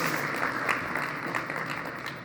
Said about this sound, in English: You can applause, no problem.